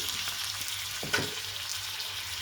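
Potato bhaji sizzles and fries in a pan just after crushed peanuts are added, a soft steady crackle with a brief scrape of stirring.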